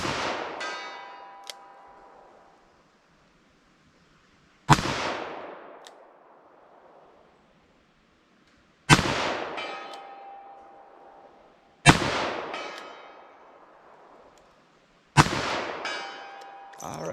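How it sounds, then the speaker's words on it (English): Five sharp, loud .44 Special handgun shots fired single action into ballistic gel, each cracking alone and ringing out before several seconds of quiet. "I'll try a single action shot center mass."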